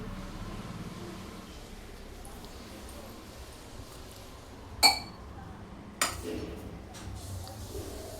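Utensils being washed give two distinct clinks of dishes knocking together over a low, steady background, with faint voices nearby.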